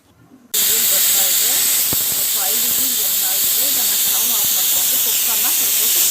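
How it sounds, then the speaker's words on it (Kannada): A loud, continuous hiss of steam blasts from a pressure cooker whistle while cooking mutton sambar, starting abruptly and holding steady, with faint clinks beneath. "ಕ್ಲೋಸ್ ಮಾಡಿ ಒಂದು ಐದು ವಿಸಿಲ್ ಬಿಟ್ಕೊತೀನಿ ನಾನು"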